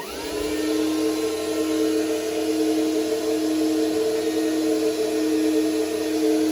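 A Collins ART-13 aircraft radio transmitter is switched on and runs with a steady, loud electrical hum and whine that settles in within the first half second and holds unchanged.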